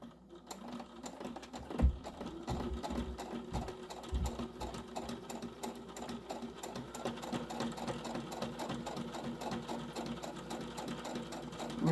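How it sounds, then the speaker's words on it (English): A sewing machine runs steadily along a tote bag seam with a quarter-inch allowance, its rapid rhythmic needle clatter close and continuous, with a couple of louder thumps early on and no talking. "we're just going to sew that from one end to the other"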